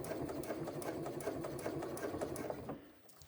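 A sewing machine stitches slowly around the curved corner of a crossbody bag through thick seam-allowance bulk, a steady close mechanical whir with a rapid needle rhythm that stops abruptly near the end.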